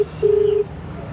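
A single telephone dialing tone plays over a speakerphone, one clear steady beep lasting under half a second against a quiet room.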